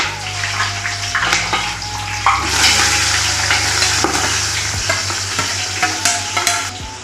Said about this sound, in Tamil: இப்போ நம்ம வெங்காயம் சேர்த்து வதக்கலாங்க